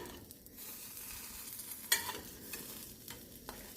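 Black bean and poblano flautas in rolled tortillas fry quietly in a pan, a soft, steady sizzle with one brief clack partway through as a flauta is turned.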